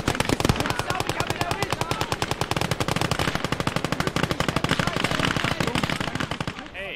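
Enemy machine gun fire in the Call to Arms Gates of Hell video game: one long, loud, rapid burst of evenly spaced shots that runs almost the whole time before cutting off.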